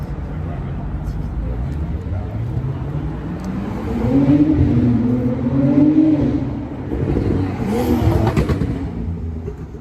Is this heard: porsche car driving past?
yes